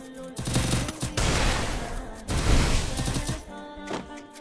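Dense automatic gunfire from a shooting video game comes in loud, close, sustained bursts with rapid rattling shots, separated by brief gaps, and heavy impacts near the end.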